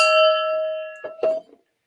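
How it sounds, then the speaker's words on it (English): A single struck gong rings out with a sustained metallic tone that slowly decays, followed by a couple of brief dull knocks before it cuts off into silence. "And a gong for Adventure 50."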